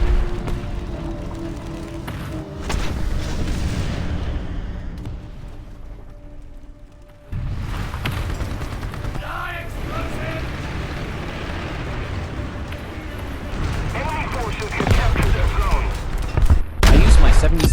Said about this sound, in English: he killed me with his machine gun